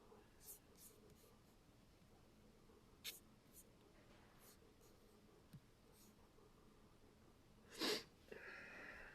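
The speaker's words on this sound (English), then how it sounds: "I'm gonna sit and write for a bit in that and record it." A pen scratches across paper in a quiet room, making faint, intermittent strokes close by. A louder breathy sniff or rustle comes near the end.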